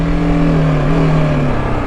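A BMW G 310GS motorcycle cruises at slow speed, its engine giving a steady, close, low hum with slight pitch wobble, no voices over it.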